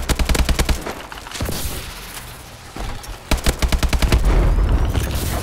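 AK-12 assault rifle in Call of Duty: Advanced Warfare firing rapid automatic bursts, loud and close, with a pause midway before the fire resumes and continues steadily.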